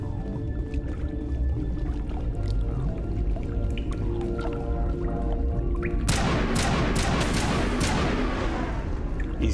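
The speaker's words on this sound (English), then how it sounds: "Not the fucking drip drip sounds." Water drips and splashes in the Noveria level of Mass Effect Legendary Edition, a steady ambient hum giving way to a denser, louder flurry of drips and trickles in the second half, with no voices.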